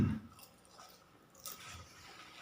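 Someone chews pani puri close up, with a wet crunch at the start followed by quieter, soft squishy mastication sounds.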